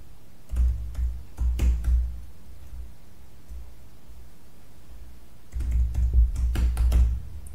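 Typing on a computer keyboard in two short bursts of close, clattering keystrokes, separated by a few seconds of quiet.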